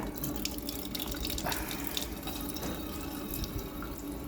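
Water gushes from a kitchen sink tap driven by a newly installed DIY booster pump, a constant splashing flow into the basin with small drips and clinks, close and fairly loud, no voices.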